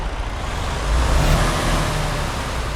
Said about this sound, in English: And I'll rev it.